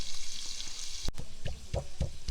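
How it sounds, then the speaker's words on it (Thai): Pork belly stir-fried in a pan for a Thai mustard-greens soup, a steady close sizzle with intermittent scraping and clacking stir strokes, no voices. "เดี๋ยวเราจะผัดไปเรื่อยๆแล้วกันนะครับผม ทำให้มันสุก"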